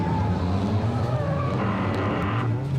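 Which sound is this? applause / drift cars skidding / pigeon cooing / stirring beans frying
drift cars skidding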